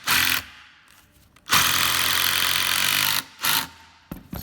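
A power driver sends a screw into a beam of a flat bank kicker skate ramp, with one long loud whirring run flanked by short bursts and pauses.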